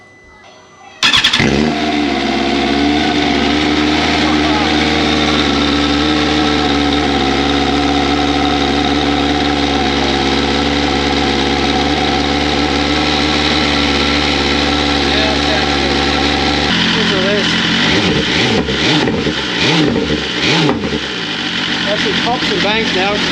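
A BMW S1000RR motorcycle fitted with a Pro Race exhaust cold-starts with a sharp bark and then idles loud and close for a long steady stretch, with the engine note roughening and blipping toward the end.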